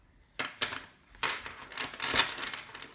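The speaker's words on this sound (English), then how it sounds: "So let's give it a good shuffle." Several quick papery riffles and flutters of a laminated tarot deck being shuffled, in short bursts separated by brief pauses, close up and fairly quiet.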